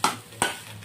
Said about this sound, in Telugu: ఇదైతే ఫ్రై అవుతుంది